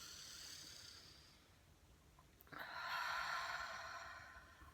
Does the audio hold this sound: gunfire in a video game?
no